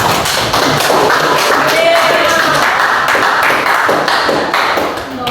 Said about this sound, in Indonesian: Kita kasih aplaus buat kita semua